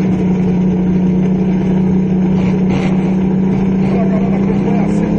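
A powerful six-cylinder drag racing car engine idles with a deep, steady rumble, heard continuously and fairly close, with faint voices in the background.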